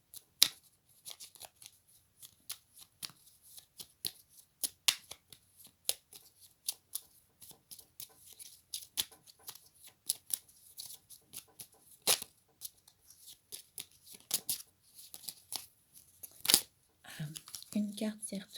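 A tarot deck is shuffled in a twin-flame love reading, giving many sharp, irregular snaps and flicks with a card flipping over, at moderate loudness.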